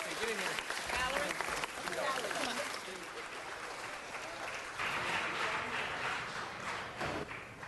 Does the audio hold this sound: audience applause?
yes